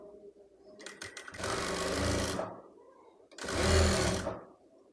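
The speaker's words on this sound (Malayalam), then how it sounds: "ഓപ്പോസിറ്റ് സൈഡും ഇതുപോലെ തന്നെ നമുക്ക് സ്റ്റിച്ച് ചെയ്ത് കൊടുക്കാം കേട്ടോ" A sewing machine stitches a party-wear baby skirt in two loud, steady bursts, each lasting about a second or more, with short pauses and faint handling noises between them.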